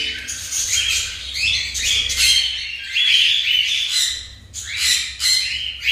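A pet cockatiel squawks and chirps close by in a string of harsh, shrill calls with short pauses between bursts and no other sound.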